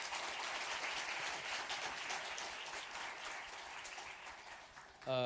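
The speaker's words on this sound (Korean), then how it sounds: "우리 감사하는 마음 뜨거운 박수로 한번 경배하겠습니다." A church congregation at a Sunday worship service gives warm applause to thank the guest pastor after his sermon. The clapping is steady, dense and fairly soft, and it continues for about five seconds before a brief sound cuts in at the end.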